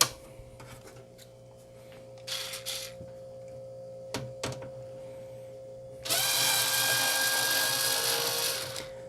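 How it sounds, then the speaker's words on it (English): Power screwdriver whirring as screws are backed out of a PC motherboard during a sleeper build upgrade to Ryzen, with faint handling clicks, then a loud sustained high whine over the last three seconds. "Let's go ahead and remove the screws in the board so we can get this out of the way."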